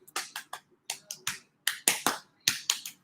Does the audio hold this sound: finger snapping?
yes